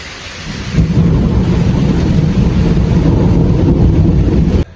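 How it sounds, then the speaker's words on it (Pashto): Heavy rain pours down in a steady, loud roar, with a deep thunder rumble underneath and wind buffeting the microphone. The downpour swells just under a second in and continues unbroken, with no voices. "دا وینې بهي باران وریږي دومره تیز دی"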